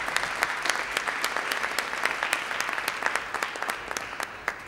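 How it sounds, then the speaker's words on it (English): A conference audience claps for the artists at the opening of a peacebuilding event, a lively patter of many hands with distinct sharp claps standing out, fairly close and unbroken throughout. "So a big round of applause for our artists,"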